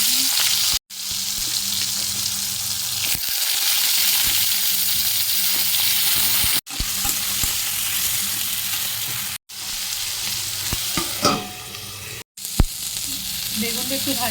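Panch phoron and dried red chilli frying in hot oil, a steady loud sizzle with brief breaks and occasional stirring scrapes, no voices.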